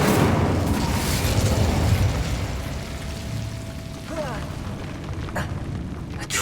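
The Incendio fire spell in the video game Hogwarts Legacy, cast during a fight: a sustained roaring, crackling rush of flame, loud and steady, fading slightly, with a few faint whooshes and tones behind it.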